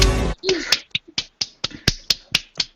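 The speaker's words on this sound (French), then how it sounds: "J'adore applaudir tout seul, il y a tellement une ambiance." A single person claps alone at the start of a lockdown-era French online show, about ten sharp, evenly spaced claps, close and dry, after a brief burst of speech.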